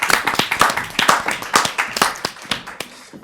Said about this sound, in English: she's being applauded as well